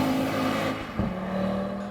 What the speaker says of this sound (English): The Plus is the variable exhaust system produces its most mellifluous tones here.